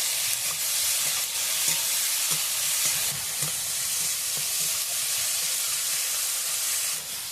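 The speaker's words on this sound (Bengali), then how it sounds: "পেঁয়াজ আর টমেটোটাকে আমি ভেজে নেব।" Onion and tomato fry in a pan with salt in a crab curry, giving a steady, loud sizzle with occasional stirring clicks throughout, and no voices.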